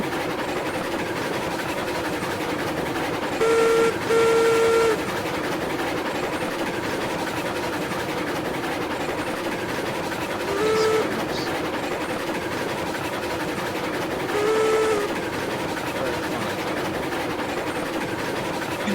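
A locomotive in the train game Railroads Online rolls downhill, a steady low rumble and rail noise running throughout, broken by three short whistle blasts, one pair early and two single toots later, with no talking.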